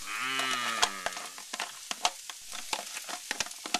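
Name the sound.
onions sizzling in frying pan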